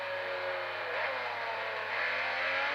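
Engine of a car lapping a circuit in a racing video game, a steady sustained drone with smooth pitch sweeps as it speeds up and eases off, continuous and alone.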